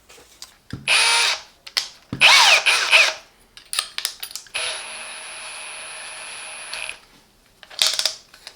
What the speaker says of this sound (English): That is the hammer drilling.